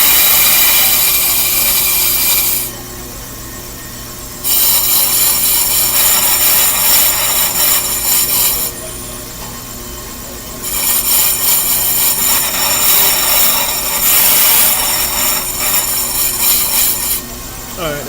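A worn disc brake rotor is worked slowly back and forth to remove its lip, giving a loud, steady rasping scrape that swells and eases in long alternating passes.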